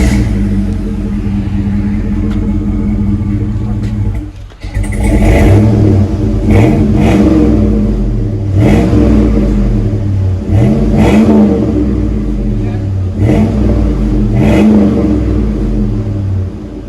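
Chevy Tahoe with a 5.3L V8 and a Flowmaster exhaust with the muffler removed, revved repeatedly: a steady deep idle rumble, then a string of sharp throttle blips rising and falling, loud and close.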